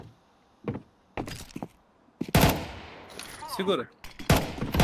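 Gunfire in Counter-Strike 2: bursts of shots and impacts come in separate clusters, some short and others drawn out, loud and close, with a player's voice talking in between.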